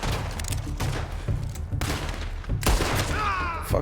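Gunfire in the video game Red Dead Redemption 2, a rapid series of sharp shots and booms with a few short pauses, loud and close throughout.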